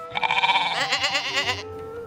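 A goat bleats in one loud, wavering, drawn-out call, close and clear, with a second quavering cry following straight on.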